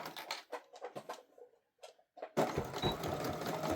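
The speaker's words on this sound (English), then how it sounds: "We're going to back stitch." A sewing machine back stitches the neck strap of a reversible apron at 4.5 stitch length, starting with short rhythmic bursts and pauses, then running continuously and louder, with no talking.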